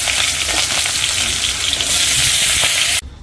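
Potatoes frying with green chillies in a pan on a gas stove in a village kitchen, a loud, dense sizzle with stirring scrapes, cutting off abruptly near the end.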